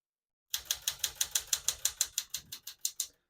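A 1975 Smith-Corona Galaxie 12 manual portable typewriter clacks out about fourteen quick, evenly spaced keystrokes, close and crisp, with no voices.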